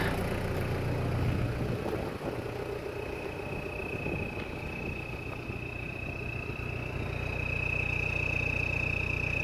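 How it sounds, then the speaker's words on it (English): Idling 1KZ-TE turbodiesel in a 2000 Toyota Land Cruiser Colorado VX J95, a steady close rumble with a thin, high turbo whistle running continuously over it, with no talk. "No smoke. And a nice Toyota turbo whistle."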